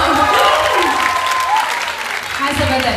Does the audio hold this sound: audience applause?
yes